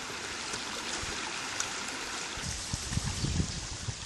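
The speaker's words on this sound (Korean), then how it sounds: "단순히 물이 흐르는 개울로 보이는 이런 곳에서 정말 금을 얻을 수 있는 것일까?" A shallow stream flows steadily over rocks, used for panning placer gold, with continuous close rushing and gurgling water and a few louder splashes toward the end.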